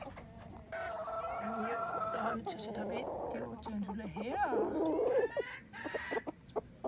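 A small round hen clucks steadily nearby while a person talks gently over it, with the clucking growing busier toward the end.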